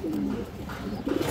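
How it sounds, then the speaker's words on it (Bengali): Silver bagha pigeon, an old purebred bird, cooing close by in a couple of short low murmuring phrases, one early and one near the end, over faint background noise. "এই যে দেখেন দর্শক সিলভার বাগা নটটা, এটা একদম পুরনো খাঁটি একটা কবুতর দর্শক"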